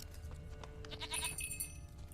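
Goat bleating in The Witcher 3, a short wavering bleat heard at moderate distance over a low background murmur, with faint bell-like tinkles alongside.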